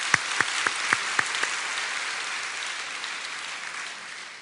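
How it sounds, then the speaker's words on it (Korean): A church congregation at a Sunday service claps, opening with a few sharp, distinct claps that blur into soft, steady applause, fading gradually. "네, 박수 한번 해주시기 바랍니다."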